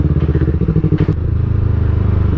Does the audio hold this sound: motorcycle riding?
yes